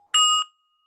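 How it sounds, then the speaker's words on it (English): A meditation bell struck once at the start of a guided sitting: a single bright, ringing tone with clear overtones, lasting about a third of a second before cutting off into silence. "Let's start the meditation with the bell."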